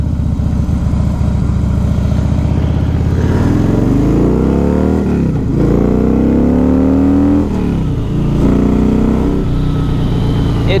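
A Harley-Davidson Fat Boy motorcycle on the road, its V-twin engine loud and close, revving up and down repeatedly as it accelerates and shifts gears, with a steady deep rumble throughout and no voices.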